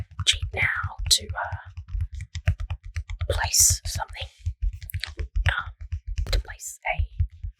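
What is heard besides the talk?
typing on a computer keyboard to enter a Sims cheat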